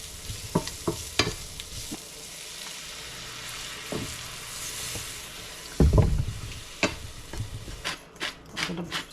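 Milk poured into flour in a hot pan, stirred with scrapes and clinks over a steady sizzle, with a louder burst of bubbling partway through and rapid clatters near the end.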